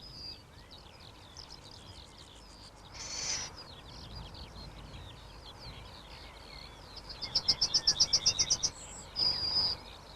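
High, rasping chirps and calls from young little owls repeat through a noisy outdoor background, with a rapid pulsing burst of calls near the end.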